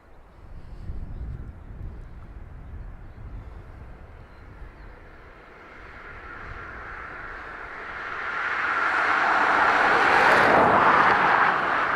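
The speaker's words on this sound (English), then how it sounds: "whether that's the noise of the ATR taxiing off the south runway" An aircraft at Dublin Airport, either an ATR turboprop taxiing off the south runway or a helicopter powering up, swells from a low distant rumble into a loud, broad engine roar, with wind buffeting the microphone throughout.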